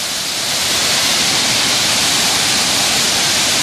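The Kurşunlu waterfall in a wooded valley near Salihli roars loudly and continuously, a dense, even rush of falling water with no voices over it.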